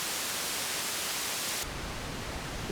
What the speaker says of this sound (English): If I introduce pink noise, you're going to see some of the high frequencies attenuated.